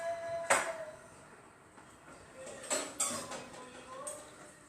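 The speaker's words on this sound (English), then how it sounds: "Let me get my spatula." Kitchen clatter of a spatula being fetched, with light metallic clinks and a drawer-like slide, a few soft separate knocks against a quiet room.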